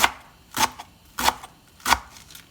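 A knife slices through a rolled bundle of fresh collard greens on a cutting board, three crisp, evenly spaced chops up close with quiet pauses between them.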